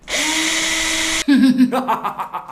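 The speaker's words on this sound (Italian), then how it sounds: "Prendete un trapano. Fatto? Prendete le viti." A power drill whines steadily for about a second, then bogs and stutters as it drives in a screw, close by.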